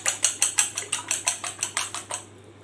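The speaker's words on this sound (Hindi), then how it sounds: "दूसरे पैन में थोड़ा सा घी डालें और 2 अंडे डालकर मैं इसको बीट कर" Two eggs being beaten with a utensil against a pan with a little ghee, roughly a dozen quick, even metallic strokes in a steady rhythm, close and fairly loud, stopping near the end.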